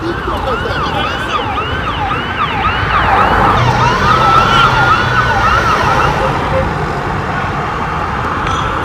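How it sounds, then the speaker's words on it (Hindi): Emergency sirens wail in repeated rising and falling sweeps at a fire in central Israel, loud and fairly close over a rumble of street traffic. "जहां पर आग लगी हुई है, सायरन्स हैं और फायर रिस्पॉन्डर्स जो हैं वहां पहुंच रहे।"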